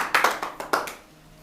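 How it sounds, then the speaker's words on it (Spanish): A church congregation claps in praise, a short burst of loud, fairly sparse hand claps in an uneven rhythm that dies away within about a second. "Un aplauso al Señor."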